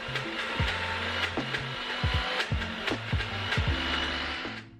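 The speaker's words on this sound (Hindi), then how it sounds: "बड़ा के लिए मैं दाल को भिगो के रखी थी और दाल को मैं अभी पीस लूँगी" Wet grinder or mixer grinding soaked lentils into batter for vada, a steady whirring mechanical drone with repeated clunks and knocks, fairly close and continuous until it winds down at the end.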